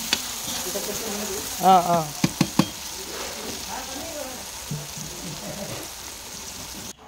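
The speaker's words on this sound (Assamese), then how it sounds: "আলুখিনি অকণমান সময় মানে ভাজি পেলাই থৈ ল'লোঁ অকণমান ফ্ৰাই কৰি ল'লোঁ" Potato pieces frying in hot oil in a home kitchen, a steady close sizzle with a few sharp clatters of a spatula stirring in the pan, while a voice speaks briefly over it.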